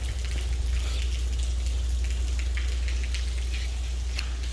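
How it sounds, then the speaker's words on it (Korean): Rain keeps falling at Mokpo fish market during the rainy season, a dense, steady hiss of drops on hard surfaces with a low rumble underneath and no voices. "지금 목포는 비가 이렇게 계속 내리고 있어요."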